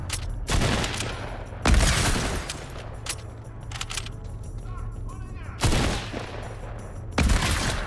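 Hip-fired gunshots in the video game Fortnite ring out as four loud, sharp bursts at uneven intervals, each with a short decaying tail over low background game noise.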